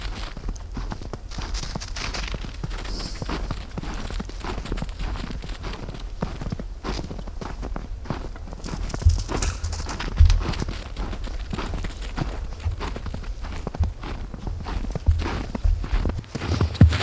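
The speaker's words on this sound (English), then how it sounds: "I think there's some horses coming. This is a horse trail." Horses walk along a wooded hiking trail, their steady hoof thuds and footfalls forming a continuous rhythmic patter at moderate distance over outdoor ambience.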